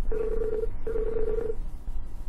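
Telephone ringing on the line: two long steady ring tones, each under a second, separated by a short pause, fairly clear over faint background hiss.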